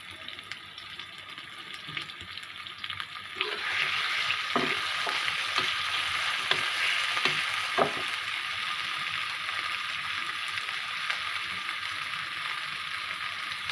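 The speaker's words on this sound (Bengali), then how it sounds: "আলাদা একটা পাত্রে কষিয়ে নিব। সামান্য একটু তেল দিয়ে দিচ্ছি, পরিমাণে অনেক কম।" Spices sizzle and fry in a small amount of oil in a pan, a steady close crackle that swells after a few seconds, with occasional stirring taps.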